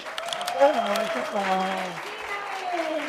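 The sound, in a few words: audience applause welcoming a guest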